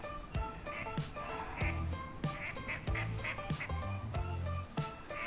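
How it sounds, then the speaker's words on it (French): A duck quacks repeatedly near a bubbling spring, a rapid run of loud, close, nasal calls in an uneven rhythm lasting several seconds. "On va voir le cri du canard."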